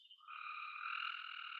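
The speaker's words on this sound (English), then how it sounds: "Frogs have been super happy since yesterday because we got a ton of rain" Frogs croak steadily after heavy rain, a continuous layered chorus of several voices rising within a quarter second and holding evenly at moderate distance, with no talk over it.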